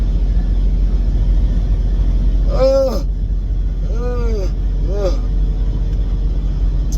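A car's steady low engine and road drone is heard from inside the cabin while driving, constant and close, with a few brief vocal sounds over it.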